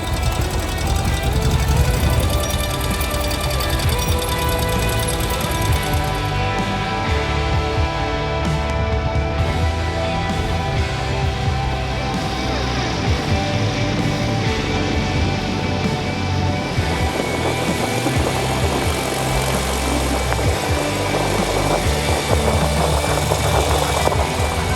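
A Ural sidecar motorcycle engine drones continuously and loudly while riding, with steady engine rumble and wind noise throughout and slight changes in pitch as the pace varies.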